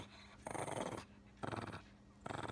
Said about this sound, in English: this is my doggy